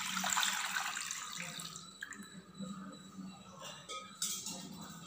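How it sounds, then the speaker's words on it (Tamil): Water poured into a tamarind mixture for rasam: a steady splashing pour in the first second or two, then quieter trickles and light kitchen clatter. "இப்போ தேவையான அளவு தண்ணி ஊற்றுறங்க."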